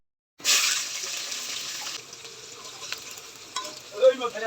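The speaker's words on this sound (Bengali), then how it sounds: "এখন এই পাতাকপি ভালো করে নাড়িয়ে নিব।" Cabbage with bay leaf, panch phoron and green chillies stirred in hot oil in a pan, giving a bright, steady sizzle with scraping from about half a second in, easing after two seconds, with a few clatters near the end.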